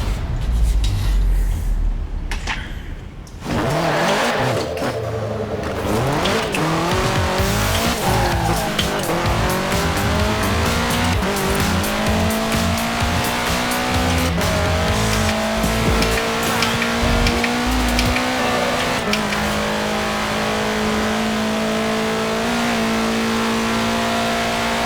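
A 1966 Volkswagen Beetle fitted with a 2.5-liter flat-four turbo engine roars to life after a quiet start, then revs hard and accelerates with rising engine pitch and tire squeal, loud and sustained close by.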